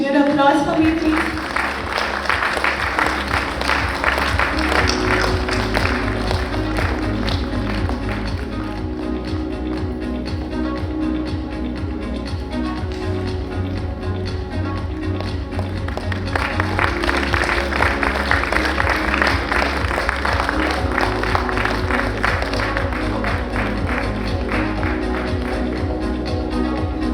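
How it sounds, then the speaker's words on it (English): A conference audience at an HR technology event in Bengaluru keeps applauding while loud stage music with a heavy beat plays over it and a voice speaks at times. "Continued applause for me, please."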